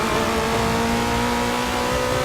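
A race car in Forza 6 warming up its tires, its engine droning and revving continuously at a steady loud level throughout.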